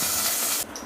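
Whole spices such as cinnamon, cloves, cardamom and bay leaves sizzle loudly in hot oil in a pressure cooker for mutton kuzhambu, a steady broadband hiss that drops off abruptly near the end.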